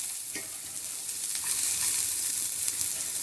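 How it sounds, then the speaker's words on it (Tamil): Mustard seeds and cumin tempering in hot oil for a bottle gourd kootu give a steady, close sizzle, with faint scraping from stirring and no voices. "கடுகு பொரியட்டும் சீரகம் ரெண்டு வாசனைக்கு வெங்காயம் காஞ்ச மிளகாய்"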